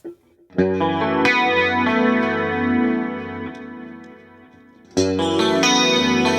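Clean electric guitar chords on a James Tyler guitar with its standard pickups ring out bright and full, sustaining with a shimmering chorus-like sheen, then a fresh strum cuts in near the end.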